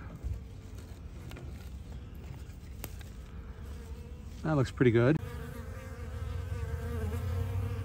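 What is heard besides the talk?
honey bees buzzing around hive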